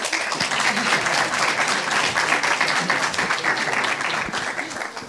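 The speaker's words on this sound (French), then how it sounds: "Alors dès qu'ils sont les meilleurs, les applaudissements." Audience applause at a university doctoral event in Lyon, a dense, steady wash of clapping from a large crowd, close and loud throughout.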